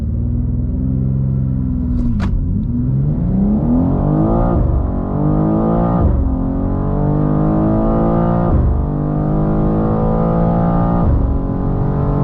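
A 2024 BMW M2 (G87) launches with a slight bog and accelerates hard, its engine climbing in pitch through several rising pulls broken by quick shift dips, loud and close from inside the car with no talking.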